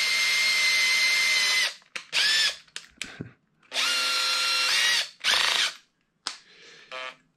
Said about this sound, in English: We take a 2 millimeter drill and put it in our drilling machine.